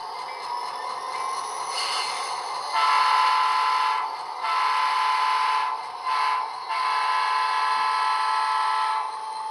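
A DCC-EX automated model train runs with a steady electric hum and rolling whir, and its sound-decoder horn or whistle blows in several short and long blasts.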